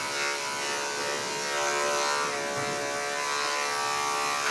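Close, steady electric clipper buzz as a golden retriever's coat is shaved down, a continuous hum with slight shifts in pitch as the blade moves through the fur.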